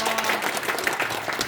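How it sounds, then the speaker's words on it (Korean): Audience applause from a room of school teachers gathered for a training session, dense steady clapping from many hands that stays loud and even from start to finish. "박수."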